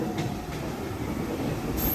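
Steady rumble of the moving Mumbai LTT–Shalimar Express passenger train recorded from inside after leaving Rajnandgaon station, with continuous wheel and carriage noise and a faint high squeal near the end.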